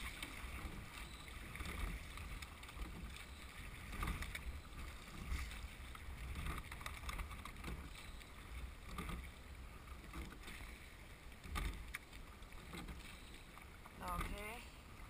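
A women's eight rowing shell heard from the coxswain's seat, with faint water wash and the rhythmic knock of oars repeating every couple of seconds under steady wind noise.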